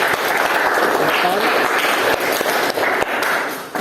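Classroom applause for a student group: a burst of many hands clapping together, dense and close, rising and holding for a few seconds before tapering, with a voice faintly underneath.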